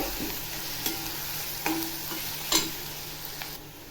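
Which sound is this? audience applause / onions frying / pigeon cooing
onions frying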